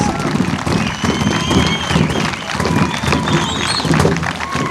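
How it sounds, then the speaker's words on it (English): Audience applause and crowd noise at the 50th Annual Wiky Cultural Festival Pow Wow for Chris Simon, hockey player from the Quebec Nordiques, a steady loud wash of clapping with faint voices mixed in. "Let's give him a big round of applause."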